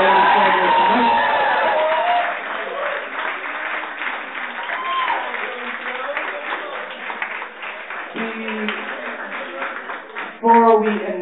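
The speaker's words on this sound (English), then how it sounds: "if we could give a big round of applause for all of the artists that we saw participating in the program tonight" Audience applause and some cheering for slam poetry artists at an evening poetry event, steady crowd clapping lasting several seconds with a louder burst of claps near the end, mixed with some voices.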